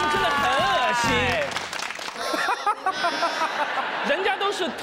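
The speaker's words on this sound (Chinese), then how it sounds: "来，掌声杨迪。" A television studio audience claps and laughs for the comedian Yang Di while a voice and excited exclamations carry over the top, the clapping rising in bursts between the voices.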